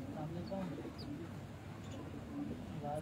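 Pigeons cooing on a Multan rooftop, soft repeated low coos in a steady outdoor background, with faint chirps mixed in.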